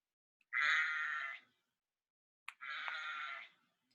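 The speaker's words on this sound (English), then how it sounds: "You hear the lamb?" A lamb on a farm bleats twice, each bleat about a second long and separated by a short pause, with a small click just before the second cry; clear and close with silence around it.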